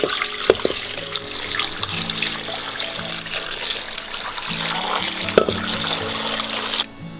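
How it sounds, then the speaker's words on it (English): Water pours steadily into a crock pot filled with bones for stock, a continuous close splashing rush that runs for several seconds before cutting off abruptly near the end. "we're just going to top this off with some water."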